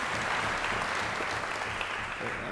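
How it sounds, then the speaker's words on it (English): Audience applause for a clarinetist and a bass trumpet player at a concert event, a dense, steady wash of many hands clapping throughout, close and fairly loud. "Round of applause, please, for clarinetist Mark van der Wiel and bass trumpet Byron Preacher."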